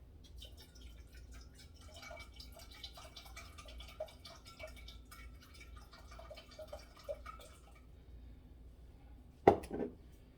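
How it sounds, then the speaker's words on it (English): Water being poured into a pot holding vinegar for radish and cucumber pickles, a steady trickle and patter of liquid for about eight seconds, ending in one sharp clunk. "and I'll put a full cup of water"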